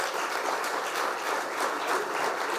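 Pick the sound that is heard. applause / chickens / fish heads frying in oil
applause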